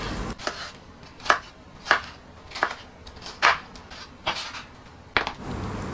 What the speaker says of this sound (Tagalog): Hiwain lang natin to ng maliliit.